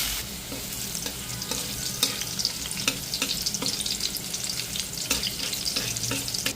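Ridge gourd frying in a pan with poppy seeds, salt, turmeric and a little sugar: a dense, continuous close sizzle broken by repeated clicking and scraping stirs.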